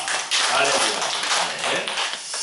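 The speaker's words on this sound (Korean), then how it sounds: "자, 먼저 하나님께 영광의 박수 드립니다" A church congregation applauds, a dense burst of clapping that starts abruptly, stays loud and close, then tapers off unevenly.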